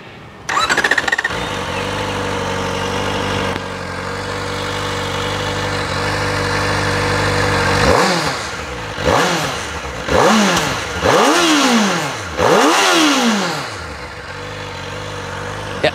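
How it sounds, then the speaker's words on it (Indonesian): Kawasaki Ninja ZX-4RR motorcycle engine, a deep-toned inline-four, settling into a steady close idle before a series of five sharp throttle blips that rise and fall in quick succession, loud and without voices. "nah kira-kira bagaimana suaranya dari Kawasaki Ninja ZX 4RR ini?"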